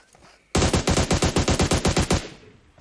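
Rapid automatic gunfire in the mobile battle-royale game PUBG Mobile, power armor mode: a loud, close burst of about fourteen evenly spaced shots lasting roughly a second and a half, then a fading tail, with no talk over it.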